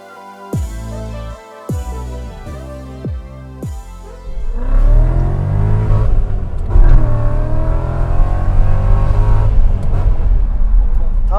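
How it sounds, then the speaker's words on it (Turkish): A BMW 540i with a V8 engine and aftermarket exhaust: several sharp revs burst and fall away, then the car pulls off and the exhaust roars steadily louder under acceleration through gears, close and loud, with some talking underneath. "Exos sesini dinletelim."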